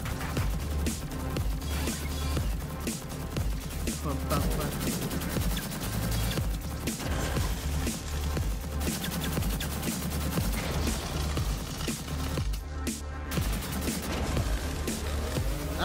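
Gunfire in the video game Dreams, rapid bursts of shots stacked close and loud across the stretch, with some talk mixed in.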